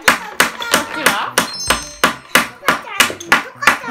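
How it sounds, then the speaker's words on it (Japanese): About a dozen sharp wooden taps in a steady rhythm, close and bright, like a small toy hammer striking repeatedly. "同じトンカチだね"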